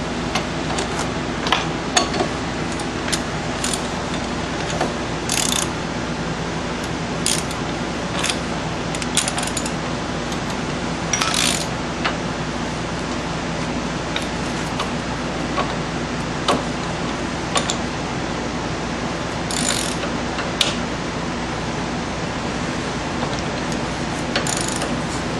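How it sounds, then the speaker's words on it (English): A ratchet tightens the front brake caliper bolts on a 2002 Chrysler Town and Country, a steady fast clicking of the pawl throughout with occasional sharper metallic clinks, close and continuous. "we can take our ratchet, we can tighten them up"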